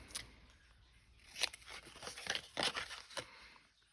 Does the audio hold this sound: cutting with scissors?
yes